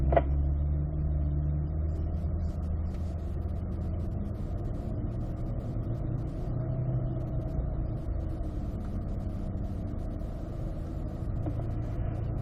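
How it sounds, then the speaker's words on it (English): Cars taxi slowly toward a racetrack at a driving school, heard from inside one as a steady low engine drone and rumble that stays even and unbroken throughout, with no one speaking. "let's put those transmissions into drive, and we'll taxi on over to the racetrack"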